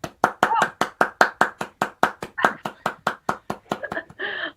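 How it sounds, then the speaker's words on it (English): A run of steady, evenly paced hand claps rings out close and loud during a live stream, about five per second, ending with a brief burst of voice. "Just wanted a little bit of clapping, you know."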